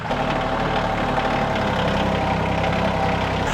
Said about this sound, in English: So I'm gonna use the tractor today